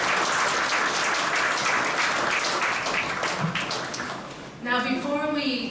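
Sustained crowd applause at a Kosrae PACMED commencement ceremony, loud and steady clapping from a large audience that thins slightly before a voice begins speaking over it near the end.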